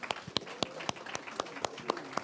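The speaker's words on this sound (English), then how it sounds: "you can clap hands for yourselves" Sparse hand clapping from a small group, about ten sharp claps spaced unevenly across a couple of seconds, fairly quiet and with a little background murmur.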